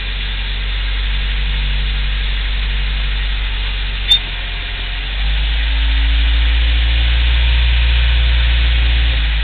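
Car engine idling with an odd vibration, a steady loud low drone and hum that grows slightly heavier partway through, with a brief tick near the middle and no talk.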